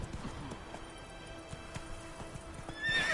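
Roach the horse whinnies and clip-clops in a video game, hooves thudding at a steady walking rhythm with a neigh rising near the end, close and clear.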